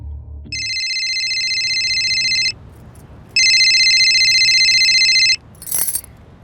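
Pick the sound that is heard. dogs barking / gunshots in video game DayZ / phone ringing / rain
phone ringing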